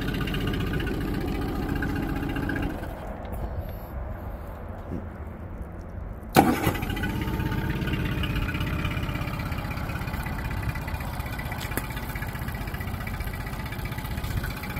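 A 2010 Yamaha 25hp four-stroke carbureted outboard motor with automatic choke runs steadily, a broadband mechanical drone that dips slightly midway, then a sharp clunk as it is put in gear and the throttle is raised.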